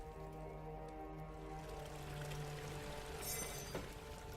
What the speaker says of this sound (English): Pour the water in the pipe.